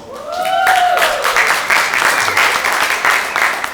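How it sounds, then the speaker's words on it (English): Applause from a conference audience at a technology panel, a dense burst of clapping that swells quickly and holds steady at full volume, close and loud throughout. "give a round of applause."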